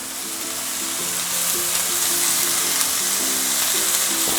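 Beef mince for spicy chilli con carne sizzles steadily in a hot pan, a continuous broadband frying hiss that grows slightly louder partway through, with no voices.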